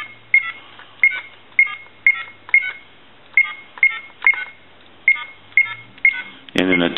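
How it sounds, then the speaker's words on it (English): Keypad tones from an AT&T Speakerphone 5500 cordless telephone beep one after another, about a dozen short evenly spaced presses, ending with a brief burst of speech. "Walk through our numbers one more time."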